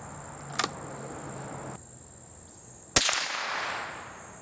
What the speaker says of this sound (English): let's shoot 5 more at the center target right next to that.